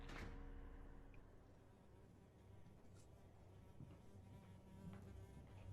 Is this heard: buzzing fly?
yes